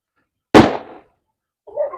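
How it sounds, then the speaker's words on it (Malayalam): A single firecracker bursts with one sharp, loud bang that decays quickly into silence, followed by a faint brief rustle. "പടക്കം പൊട്ടിച്ചു."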